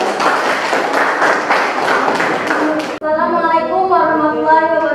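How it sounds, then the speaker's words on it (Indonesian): A group claps in a classroom for about three seconds, fairly close and loud, then the clapping stops abruptly and a voice begins speaking. "kasih tepuk tangan."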